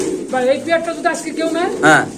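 Red house pigeons coo at a crowded pigeon market, a run of short, rising warbled calls close by, mixed with nearby voices.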